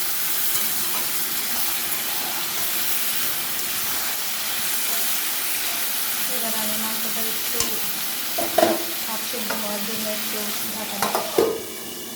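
Tomato and onion browning in a pan for chicken biryani, a steady hissing sizzle throughout, with scattered utensil clinks and scraping stirs growing more frequent toward the end.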